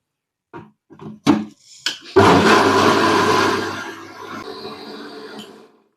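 Appam batter being ground in an electric grinder at home: a few short knocks and clatters, then a loud roaring motor whir starts and runs for a few seconds before slowly winding down and fading out.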